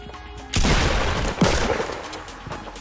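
Gunfire in Fortnite Battle Royale, likely a shotgun: two loud, close blasts about a second apart, each a sharp broadband burst trailing into a rumbling decay over steady game background noise.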